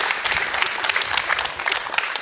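Dense audience applause fills a startup-event award ceremony, a steady wash of many hands clapping at close range with no voices standing out.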